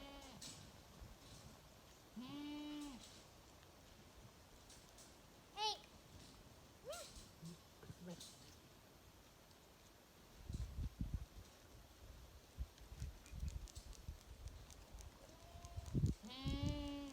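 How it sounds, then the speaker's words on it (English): Newborn goats bleat on a farm in a few short wavering calls, closer and louder near the start and end, with rustling and handling noises between them and no talk. "So new goats on the farm, guys, and we came out this morning and found another new goat."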